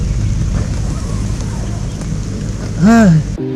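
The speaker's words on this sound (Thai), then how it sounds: "ขนาดมาช่วง หน้าร้อนนะมันก็ยังมีพายุฝนอยู่" Heavy tropical rainstorm on a southern Thai island beach in the hot season, a steady dense roar of rain throughout, with a louder tonal swoop near the end.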